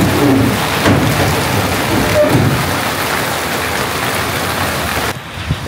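Steady rain pours down, a dense continuous hiss of drops hitting surfaces, loud and unbroken throughout.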